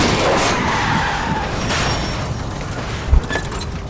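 Car skidding and spinning out during a police chase in the video game L.A. Noire, a loud sustained tire screech over engine roar with a brief thump near the end.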